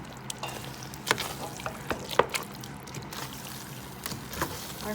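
A spoon stirs cream-style corn into a pot of seafood chowder, making soft, thick sloshing with light scattered clinks against the pot, quiet and close.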